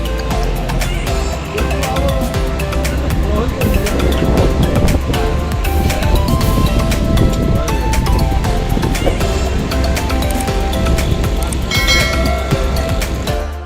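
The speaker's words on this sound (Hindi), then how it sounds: "दरिया में पानी चलने का शोर इस जन्नत जैसी वादी में किसी संगीत से कम मालूम" Loud, steady rushing of a river flowing through a mountain valley in Kashmir's Upper Neelam area, a dense continuous roar of water filling the whole clip with no pauses.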